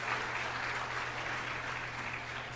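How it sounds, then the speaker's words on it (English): A round of applause plays steady and continuous at an even level, with no pauses, over a low, constant electrical hum. "I got to give you a round of applause for that."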